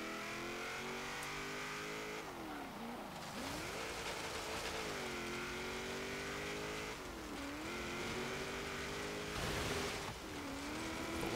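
A 1979 Chevrolet Camaro Z28 V8 drives hard through an autocross course in Forza Horizon. The engine drones loud and steady, its pitch rising through the revs and dropping sharply at each gear shift, with a faint tire squeal near the end.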